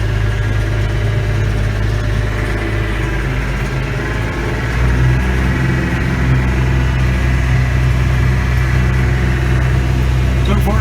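A Massey Ferguson 1105 tractor engine chugs steadily in a field with a deep, rumbling drone, close and continuous, its pitch shifting slightly midway as it keeps driving.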